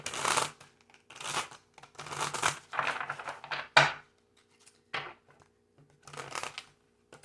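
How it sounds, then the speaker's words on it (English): Tarot cards being shuffled in repeated short riffling bursts with brief pauses between, close and fairly quiet, with one sharp tap partway through. "the cards are not wanting to shuffle."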